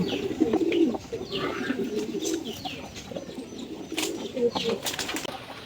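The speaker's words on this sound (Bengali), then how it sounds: "অনেক কবুতর আছে" Racing pigeons coo in a loft, several birds making low, throaty, overlapping calls with occasional chirps and a faint wing flutter, fairly close and continuous.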